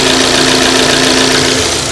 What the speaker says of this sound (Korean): 네, 엔진 소리도 아주 적절하고